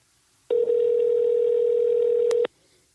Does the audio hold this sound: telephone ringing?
yes